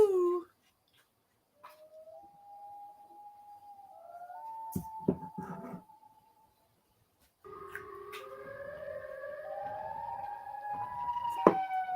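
A Siren Head creature from a TikTok clip lets out wavering, siren-like wails in separate bursts with short silent gaps between them. The wails are moderately faint, with a few sharp clicks and thumps mixed in.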